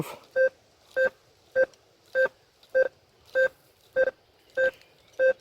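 A clean two-pitch electronic metal detector target signal beep repeats nine times at an even pace, each tone short and clear against near silence.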